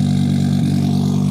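A 920-horsepower all-wheel-drive Audi Quattro with a five-cylinder engine revs steadily up close, its deep, loud drone holding for just over a second with no one talking.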